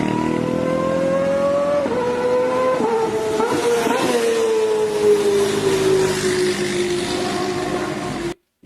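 An inline-four big bike sweeps past at speed, its engine note climbing then falling through several quick downshifts with rev blips, loud and close before fading away, with no talk over it.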